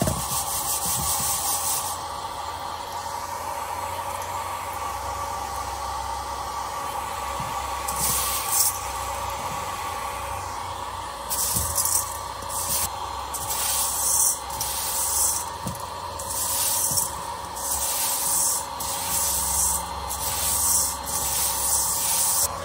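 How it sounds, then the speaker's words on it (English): Steady airy blowing hiss from a hair dryer on low, blowing chaff from threshed barley, with faint rustling and scattered light ticks as small bits get blown around. "Here's where the hairdryer comes in."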